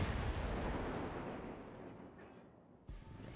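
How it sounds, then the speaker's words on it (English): Japanese destroyer guns fire in a naval battle game, producing a heavy, booming roar that slowly fades, followed by a fresh thud near the end. "Putting the devastating firepower of the Japanese destroyer guns to work"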